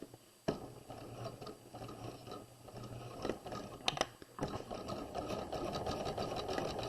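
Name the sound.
sewing machine stitching a bodice side seam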